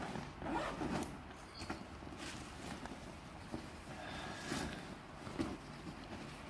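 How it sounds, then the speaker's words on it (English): Zipper on a Wise Company 5-Day Survival Backpack being worked, with repeated scratchy rasps and rustling handling noise, close and fairly quiet without talk. "this is a zipper"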